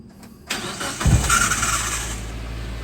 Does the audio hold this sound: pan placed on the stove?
no